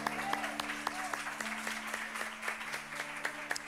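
A room full of people applauds women from Esmeraldas and Sete Lagoas at a church gathering, with steady clapping throughout and a faint hum underneath.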